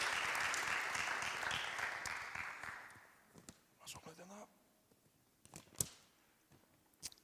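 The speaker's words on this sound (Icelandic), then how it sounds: "Getið gefið gott klapp" A church congregation applauds the choir at a Sunday service, dense clapping for about three seconds that fades into scattered claps, shuffling and a couple of sharp knocks.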